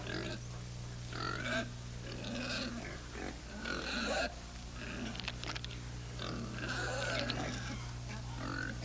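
Pigs grunting in a rural setting, repeated low snorting grunts at steady loudness over a continuous low hum, with no talk.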